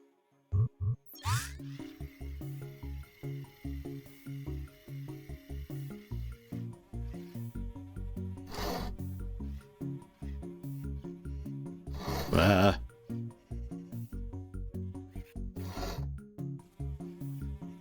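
A saw in the video game RoboCo grinds into a tree trunk, giving a steady buzzing rasp over looping game music, with several louder scraping bursts toward the end.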